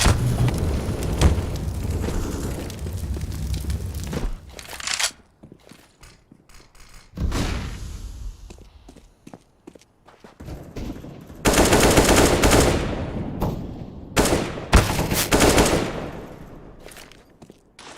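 Grenade blasts and bursts of automatic gunfire in a Counter-Strike style video game, heavy loud stretches broken by gaps with scattered single shots and clicks.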